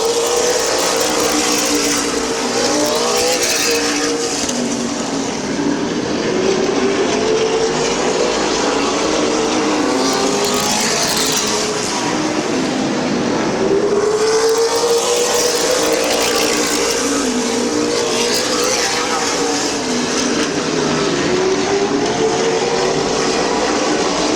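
Race cars lap Midvale Speedway, a loud, continuous engine roar that swells and fades as the pack sweeps past, with several overlapping engines heard from trackside.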